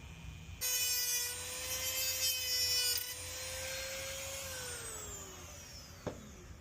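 A rotary cutting tool whines loudly as it cuts off the bottom piece of an old Walbro fuel pump on a C5 Corvette, a high sustained grind that slowly winds down, ending in a small click.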